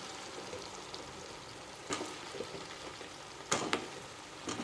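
Cut brinjal frying in oil with mashed tomatoes for an oil brinjal gravy, a soft steady sizzle with a few brief clinks and stirring knocks, quiet and close.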